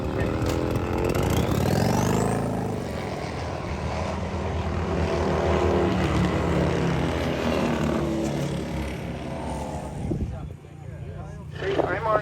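Harley-Davidson bagger motorcycles race past on a track at a Bagger Racing League event in Milwaukee, a loud sustained engine roar with a rising pass early on, fading near the end.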